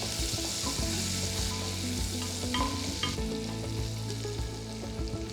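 Celery and other vegetables sautéing in a pan for tomato soup, with a steady close sizzle and intermittent stirring clatter from a utensil, and no talk.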